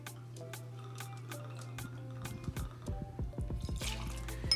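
Two ounces of Redemption bourbon poured for a mint julep cocktail, heard as a close, steady liquid stream with gurgling drips as the glass fills, with no talking.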